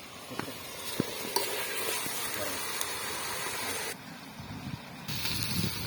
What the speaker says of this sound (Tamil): வதக்கிட்டு நல்லா வதக்கிட்டு